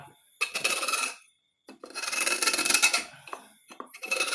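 Rough metallic scraping comes in repeated bursts with brief pauses, a grinding rasp close by, as a drill-driven single-arm cutter cuts an engine valve seat, with no talking.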